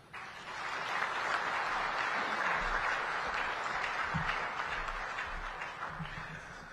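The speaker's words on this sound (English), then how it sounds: "Another round of applause for the SADC Executive Secretary, His Excellency Mr. Elias Magosi." Sustained applause from a large audience at a summit of SADC heads of state and government, honouring the SADC Executive Secretary; dense, steady clapping that swells quickly and holds at full volume throughout, with no talk over it.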